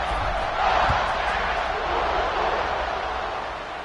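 Stadium crowd in College Football 26 during an Alabama vs. Georgia game, a broad, steady roar that swells slightly and holds through the whole stretch with no talk over it.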